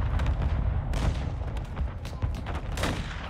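Heavy rifle shots from the Victus AMR in Call of Duty Modern Warfare 2 (2022), booming reports layered over continuous dense battlefield gunfire and explosions throughout.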